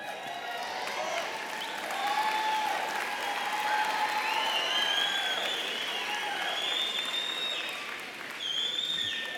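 A university spring commencement audience at a college of architecture, design and the arts cheering and clapping, a continuous roar of applause with whoops and high shouts rising over it, sustained throughout.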